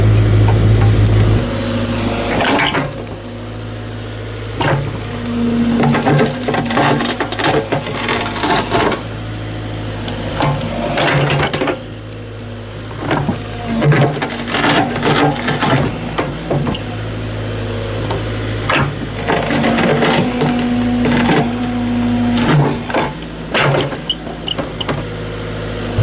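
JCB 8-ton excavator digging out old tree roots, a steady engine drone with creaks, scrapes and clunks of the bucket working through soil and wood.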